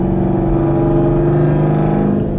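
Jeep Trackhawk with aftermarket exhaust cruising, a steady loud engine drone with a thin supercharger whine layered on top, close and continuous.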